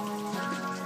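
Samsung Galaxy S5 SCL23 phone washed under running water, a steady hissing splash of water close by, continuous throughout with a faint tonal hum underneath, no talk.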